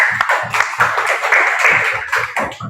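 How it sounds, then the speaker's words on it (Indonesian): Audience applause in a classroom lesson, a steady wash of hand claps with rhythmic low thumps running through it for a few seconds. "berikan tepuk tangan"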